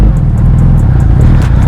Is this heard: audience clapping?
no